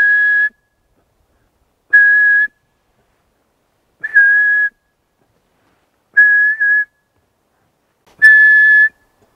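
Five clear, steady whistled notes, evenly spaced about two seconds apart, imitate the call of a male Eurasian pygmy owl in a mountain forest, each note loud and alone against silence.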